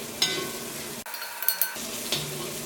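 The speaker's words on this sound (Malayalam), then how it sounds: "ഈ വെജിറ്റബിൾസ് ഇതിനകത്ത് ഇട്ടിട്ട് ഒന്ന് മൊരിച്ച പോലെ എടുക്കാം" Chopped vegetables sizzle in a pan for chicken macaroni while a utensil scrapes and stirs them, with several sharp clinks over a steady frying hiss that cuts out briefly partway through.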